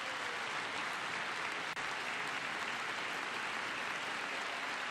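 A crowd at a presidential speech to Congress applauding steadily and loudly throughout, a dense wash of clapping with no pauses.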